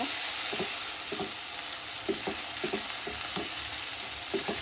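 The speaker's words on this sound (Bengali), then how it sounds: "সুন্দর করে এখন আমি মশলা একটু ভালো করে ভেজে নেব।" Spice paste of ginger and cumin sizzles in a hot pan for a fish curry, a steady frying hiss with rhythmic scraping stirs repeating every half second or so, close and alone.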